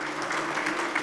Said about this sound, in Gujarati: કાનજીભાઈને આ નવા વિશ બોક્સ માટે ખૂબ ખૂબ તાળીઓથી વધાવીએ